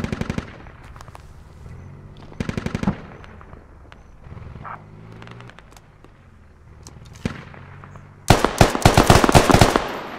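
Video game gunfire from a grenade launcher session: short automatic bursts crack out several times, then a loud sustained volley closes the stretch, with quieter ambient noise and faint distant shots between.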